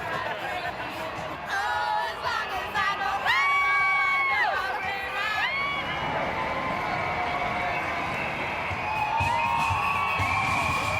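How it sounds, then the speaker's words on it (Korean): Parade crowd in Sydney cheering and whooping, with high shouts and whistle-like cries rising over a steady roar of voices and general hubbub throughout. "시민들은 환호와 노래로 퍼레이드에 호응한다."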